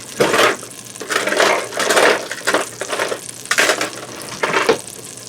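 Butter and olive oil sizzle in an Instant Pot, crackling in uneven bursts as the fat is spread around with tongs, close and fairly loud.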